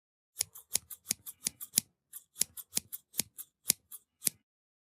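Scissors snip through curtain fabric in a quick run of about eighteen crisp, close cuts, with a short pause midway, heard alone against silence.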